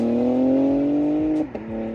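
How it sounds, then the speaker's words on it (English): A BMW X3M engine revs loudly up close, its tone climbing steadily before the throttle drops off suddenly near the end, with no talking. "with the car I've got now, the BMW X3M, unreal car"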